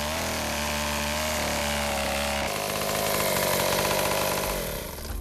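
A chainsaw cuts thick logs into metre-long lengths as firewood for a salt-making kiln in a Lao salt village. The engine roars steadily close by, and its pitch shifts midway as the blade bites deeper into the wood.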